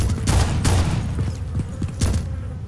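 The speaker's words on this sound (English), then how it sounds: "stop shooting!" Rapid bursts of gunfire in the Arma 2 zombie-survival game, three heavy volleys spread over a few seconds with rattling shots between them.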